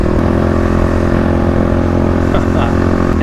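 A Stage 3 Kawasaki KLX351 dirt bike engine runs with a steady, loud, close-up rumble, holding an even idle throughout.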